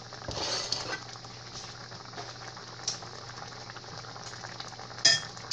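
A vinegar sauce for orange chicken simmers and reduces in a pan with a soft, steady bubbling hiss, faint and close, broken by a few light clinks of a utensil against the pan near the end, with no talk.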